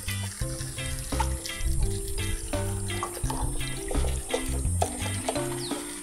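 Water is poured and sloshed into a small toy pool, with intermittent splashing and trickling close by, interrupted by bumps and handling noises.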